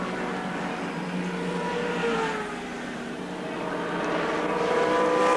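Group C touring cars racing at Surfers Paradise International Raceway in 1984, a steady broad engine roar with shifting tones as cars run close together, fairly loud and continuous with no talk.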